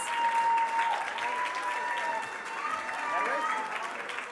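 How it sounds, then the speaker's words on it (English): An audience at a capitol internship award and scholarship fundraiser applauds interns and scholarship recipients with steady, full clapping, while voices and cheers rise through the crowd. "Let's give our interns and scholarship recipients a big round of applause."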